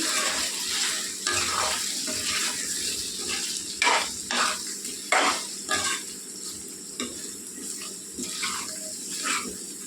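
Chili powder being stirred into a frying brinjal and drumstick curry base of sautéed masala, with steady sizzling and repeated spoon scrapes against the pan, no talking.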